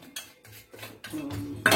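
A utensil scrapes and clinks against a bowl in short repeated strokes, mixing rava moong dal dhokla batter, close up and fairly quiet, with no talking.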